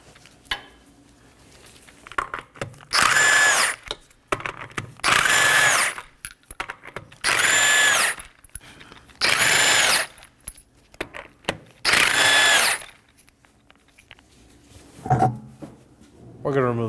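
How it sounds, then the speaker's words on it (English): A power tool with a 21mm socket removes five lug nuts from the rear wheel of a Nissan Maxima, giving five loud, evenly spaced bursts of impact rattling with clinks and brief sounds in between. "I'll be using a 21mm socket to remove the 5 lug nuts."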